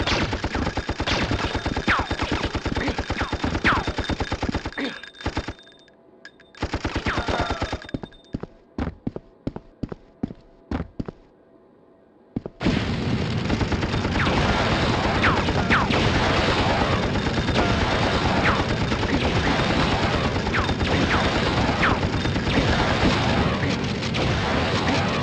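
Sustained gunfire and heavy firing in the PS1 action game Apocalypse, on a city level: loud dense bursts at the start, a stretch of scattered separate shots and gaps, then a long, continuous, roaring barrage that fills the rest.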